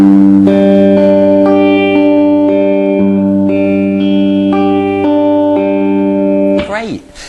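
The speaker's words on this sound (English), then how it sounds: "So when we apply this picking pattern, it'll sound like this." Plucked acoustic guitar notes in the fingerpicking pattern for a song ring out in a steady repeating pattern, bright and close, ending with a short sliding, warbling noise.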